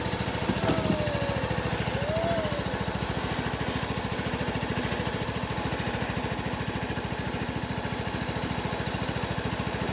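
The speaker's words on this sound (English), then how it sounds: "I'm just going to go grab the lawnmower and we'll put it on and pull it forward." A riding lawn mower's steady engine drone with a low, rapid pulsing runs for the full ten seconds at an even, moderate level, close by and without pauses.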